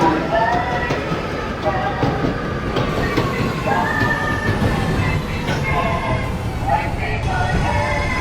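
R211T subway train on a G service in the OpenBVE train simulator, running with continuous rail rumble, clickety-clack and faint wheel squeal, loud and steady throughout.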